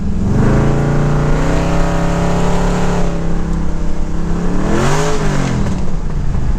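Third-generation Chevrolet with an LS engine on a test drive, a loud, close engine drone rising in pitch, then dropping at a gear change before revving up again, with no talk.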